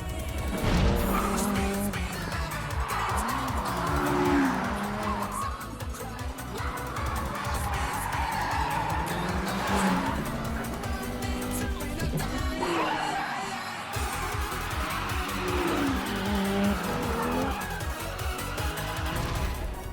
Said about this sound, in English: That's some unbelievable high rev on that engine.